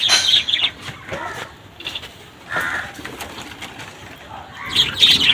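Pet budgerigars flap their wings in a covered cage, with brisk flutter bursts at the start and end and faint chirps in between, close and moderately loud.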